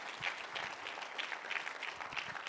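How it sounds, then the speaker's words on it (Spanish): A church congregation gives a quiet but steady round of applause as an offering to the Lord during an afternoon service, a dense patter of many hands heard fairly distant. "Denle una ofrenda de palmas al Señor en esta tarde, entonces, con todo su corazón"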